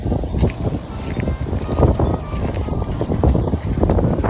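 Steady wind gusts buffet the microphone outdoors in Madrid near eucalyptus trees, a loud continuous rumble that swells and eases throughout.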